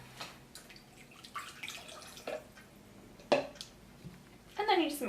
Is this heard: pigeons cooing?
no